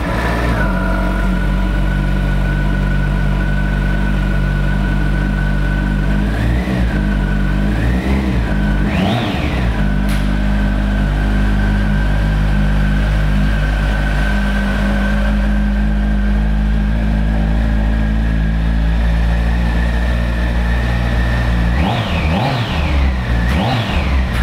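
A 2006 Kawasaki ZX14 Ninja motorcycle engine starts and settles into a loud, close, steady idle, punctuated by several quick throttle blips that rev up and drop back.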